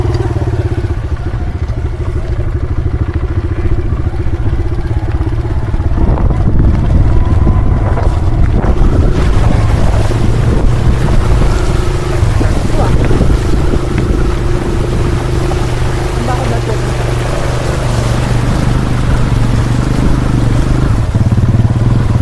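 A motorcycle crosses a river in first gear, its engine droning steadily at constant throttle under loud continuous wind and water noise, with no talk.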